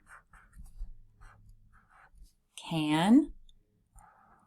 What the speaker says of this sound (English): Now let's write together.